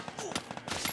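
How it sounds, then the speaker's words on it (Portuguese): Gunfire in the online shooter Free Fire, rapid overlapping shots in a dense, muffled burst lasting about a second. "Ah, dois miseráveis me atirando."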